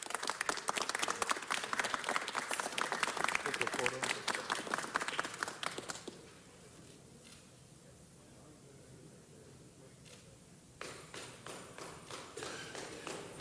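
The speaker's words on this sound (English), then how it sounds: "let's give him another round of applause" An audience at a Los Angeles city council meeting applauds in a dense burst that stops midway, falls to a quiet murmur, then starts again with renewed clapping.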